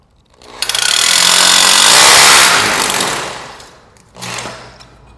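A power tool drives fixings into a wall to hold a plaster niche, with a loud rattling burst of about three seconds that fades, then a short second burst, close up and without talk.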